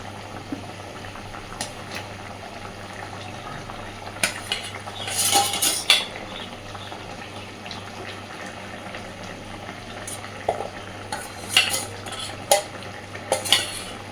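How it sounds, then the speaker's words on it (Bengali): Fish curry broth with potato and eggplant bubbles in a pot as pieces of fried fish are added, a low steady simmer broken by bursts of utensil clinks, splashes and sizzling scrapes. "ঝোল সুন্দর ফুটতে শুরু করেছে। এইবার দিয়ে দেব ভেজে রাখা মাছগুলো।"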